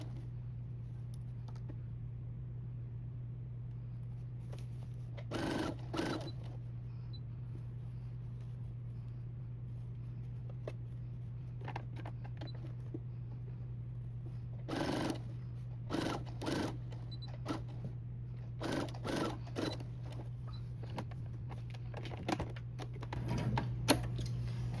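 A sewing machine stitches a handmade quilt in short, intermittent runs of rapid mechanical whirring, separated by pauses over a constant low electrical hum.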